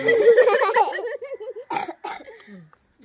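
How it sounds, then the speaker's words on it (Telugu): A person speaks and then gives two short, sharp coughs close to the microphone, followed by quiet breathing. "దగ్గు వస్తుంది మెయిన్ గా"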